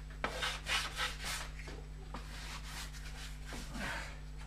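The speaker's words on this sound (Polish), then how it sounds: "szlifuje ten stół" Wooden table being sanded by hand: faint, repeated rasping strokes in an irregular rhythm over a low steady hum, with no talk.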